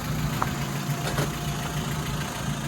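A Gypsy 4x4 idles in a Karnataka jungle, its engine giving a steady, close, low rumble with a faint rhythmic knock and vibration throughout; no voices are heard.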